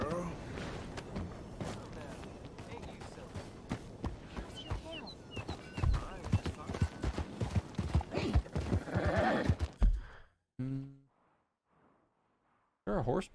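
Horse hooves clip-clop through Red Dead Redemption 2 as a rider heads toward a stable, the steady footfalls running under talk and game sound, with a whinny heard before a sudden near-silence at the end.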